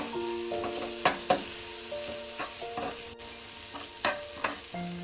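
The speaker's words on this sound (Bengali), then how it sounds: "এবার মশলাটাকে আমি একটু ভালো করে কষিয়ে নেব।" Spice paste (masala) for a chela fish jhaal is stir-fried in a pan: a low sizzle punctuated by a few crisp spatula scrapes and knocks, over a faint steady tonal hum, with no voices.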